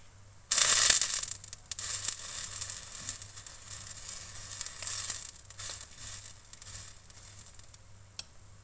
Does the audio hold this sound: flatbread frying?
yes